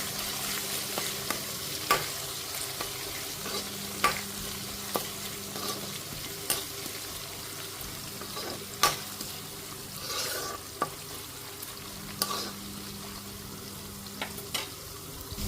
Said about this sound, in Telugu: ఆనియన్స్ వేగుతున్నాయి